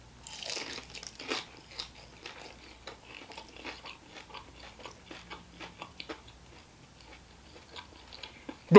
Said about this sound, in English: I can already see by looking at this wing that it is gonna crunch.